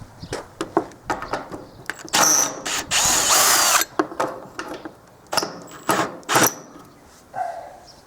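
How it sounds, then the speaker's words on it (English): A power driver backs screws out of the top beam of a Duralum Weatherwood Phoenix aluminum patio, with short bursts of whirring and ratcheting between clicks, taps and handling knocks, close and fairly loud. "now it's time to remove the 3 screws connecting to the top beam"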